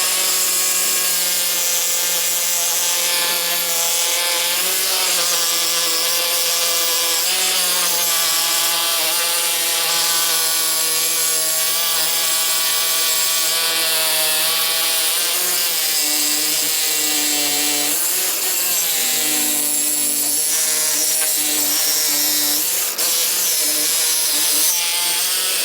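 A harsh, continuous sawing grind of a blade cutting through a Ford F150 exhaust pipe, loud and steady with shifting pitch throughout.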